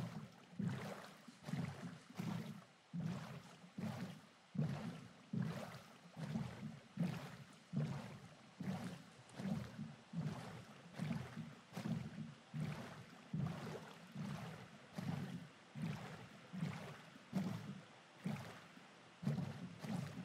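Boat gliding over water in the video game Minecraft, with a steady rhythmic series of low whooshing paddle strokes, roughly two per second, repeating evenly throughout at moderate loudness with no talking.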